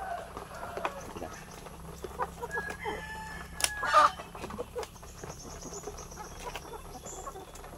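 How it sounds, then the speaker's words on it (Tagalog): Native chickens in a small backyard yard cluck and chatter at afternoon feeding, with a brief crowing call midway, under a speaking voice and faint background noise. "Kada hapon nagpapakain tayo ng manok."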